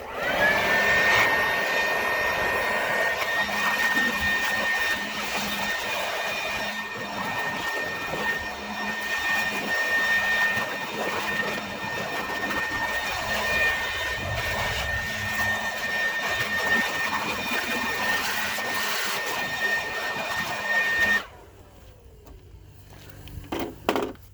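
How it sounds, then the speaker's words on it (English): A Toro air blower dries a motorcycle with a loud, steady high-pitched whine and rushing air that runs for about twenty seconds before cutting off abruptly, followed by brief handling noises. "All right, we've got our air blower."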